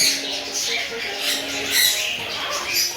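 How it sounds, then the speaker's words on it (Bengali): Sun conures and other caged parrots at a crowded bird market in Mirpur‑1 give harsh, repeated squawks and chatter that rise and fall steadily over a busy market background. "এখানে আছে সানকুনু, অনেক সুন্দর দামি পাখি"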